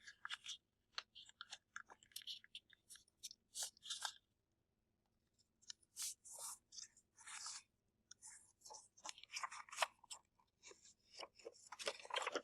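Sheets of paper being folded and creased for a tunnel book, giving crisp crinkling and sharp rubbing bursts in irregular clusters, close and fairly quiet, with brief pauses and no talking.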